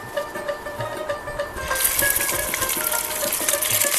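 Chicken pieces go into hot oil in a wok for Peshawari charsi karahi, a soft crackle that swells into a louder, denser sizzle after the meat drops in.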